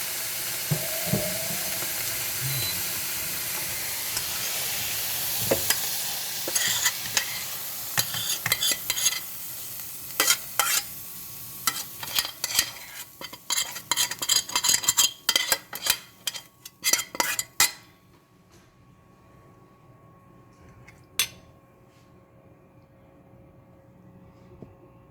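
A spoon scrapes and clatters against a pan as fried cauliflower and broccoli are moved into a bowl, with a light sizzle at first, then a burst of sharp metallic clinks and taps before it goes quiet.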